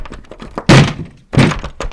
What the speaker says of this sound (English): banging on the door at the same time